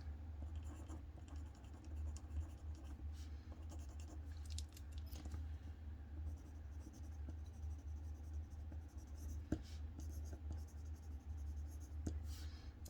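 Quiet, steady scratching of an Avant Agenda Classic mechanical pencil writing on paper, continuous and close with faint background hum and no talking.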